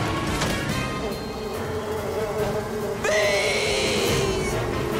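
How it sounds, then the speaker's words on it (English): Cartoon bees buzz in a swarm, a steady high drone that grows louder and sharper about halfway through, with no talking. "Bees!"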